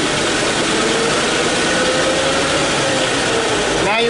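A 2005 Chevy Tahoe with a transmission or electrical fault runs loud and steady as it shifts from first to second gear, a dense broadband roar with a faint rising whine and a brief mechanical clunk near the end.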